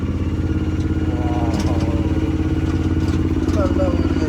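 A heavy vehicle hauling a large transformer passes along the road, its steady mid-pitched engine drone and clatter loud and continuous, with people talking over it.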